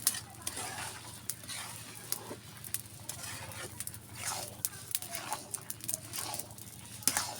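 Bottle gourd khichuri being stirred in a cooking pot, soft scraping strokes and wet patter recurring irregularly over a low sizzle, close and fairly quiet.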